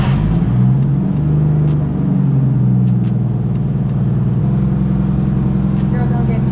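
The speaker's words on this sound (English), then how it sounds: "Alright, this is cold start." Stock turbocharged Nissan RB20 engine with a top mount turbo kit, cold starting and idling near a dyno, a continuous rough low rumble with slight revving, close and steady throughout.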